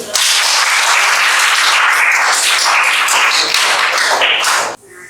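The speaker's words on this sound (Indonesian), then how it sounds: "kasih tepuk tangan dulu" Students clapping together in a classroom, a dense, steady burst of applause for about five seconds that cuts off abruptly near the end.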